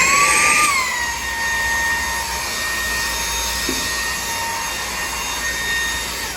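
Meudeen compressed air duster running in mini vacuum mode, a steady high-pitched motor whine that drops slightly in pitch after the first second and then holds constant, close and fairly loud with no talking.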